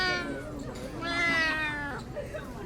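A cat meows in a drawn-out, wavering cry that rises and falls, loud and close, with a shorter mew before it.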